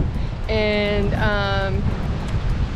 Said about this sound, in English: I hope you guys can hear me. It's super windy.